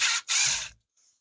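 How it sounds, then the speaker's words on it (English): A power driver backs the top screw out of a cabinet door's bottom hinge in two loud, close ratcheting whirs, a short gap between them, then faint clicks. "I'm gonna take off this top screw of this bottom hinge"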